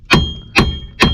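Three firm hammer knocks, roughly half a second apart, strike a worn wheel hub on a Nissan Tiida to drive it loose during a bearing replacement, each blow a close, dull metallic thud with no talk.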